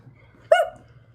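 A single short bark, voiced by a person imitating a dog, stands out clearly over a quiet background hum.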